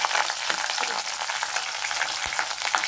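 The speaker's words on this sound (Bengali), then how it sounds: "কালো জিরে ফোড়ন, একটুখানি এটাকে ভেজে নেব" Black cumin seeds with bay leaf tempering in hot oil for kochur shak, a steady close crackling sizzle with faint stirring scrapes, no one speaking.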